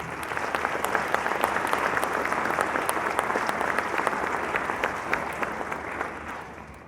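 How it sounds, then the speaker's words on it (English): An audience at a graduation ceremony in Sedalia, Missouri gives steady, sustained applause for the graduates, a dense wash of clapping that holds evenly throughout and thins slightly at the end. "One more round of applause for all our graduates"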